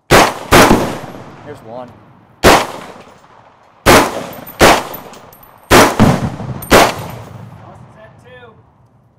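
Rifle shots set off exploding targets at an outdoor range during a shooting competition, about seven sharp loud blasts in irregular pairs with ringing decays, and a brief voice between them.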